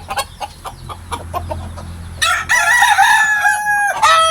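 Scattered clucks and low noise give way to a loud, close crow from a five-month-old labuyo rooster that carries on for almost two seconds, followed by a short final call.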